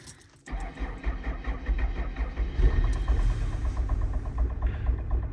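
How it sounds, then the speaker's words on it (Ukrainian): An Opel Zafira B engine catches after a silent moment and settles into a steady low idle rumble with a fine mechanical ticking, close and fairly loud throughout. "машина завелася"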